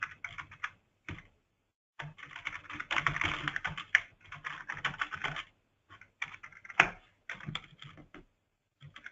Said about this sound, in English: Now I can type the definition of this requirement